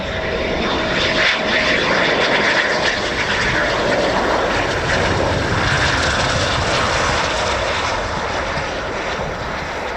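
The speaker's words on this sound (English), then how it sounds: "And our last Typhoon of wave 1." An RAF Typhoon FGR4 fighter jet at RAF Coningsby roars loudly and continuously, a dense broadband jet rumble with a steady hiss, close and overwhelming throughout without voices.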